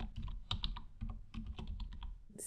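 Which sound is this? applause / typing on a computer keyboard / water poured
typing on a computer keyboard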